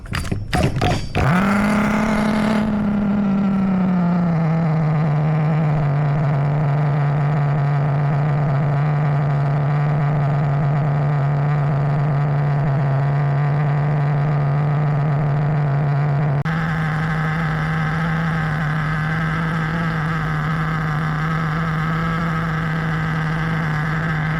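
A Hobao Hyper7 .28 nitro RC buggy engine with a lit glow plug sputters a few times, then catches and settles into a loud, steady high-pitched idle drone that shifts slightly in tone near the end, with no talking.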